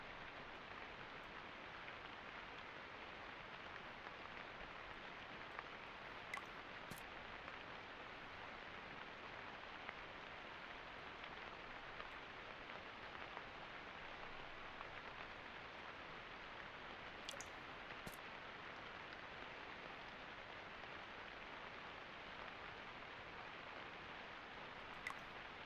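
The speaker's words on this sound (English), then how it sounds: "Uh-oh, it's raining." Steady rain in the video game Pine: A Story of Loss falls evenly on a surface, a soft continuous hiss with no pauses, no voices, and a couple of faint ticks.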